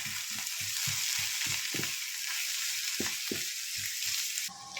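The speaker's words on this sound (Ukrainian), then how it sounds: "І наша цибулька з морквочкою тушиться." Onion and carrot sizzle and crackle in a pan with a steady frying hiss, while a rhythmic knocking or scraping pulses underneath; no speech.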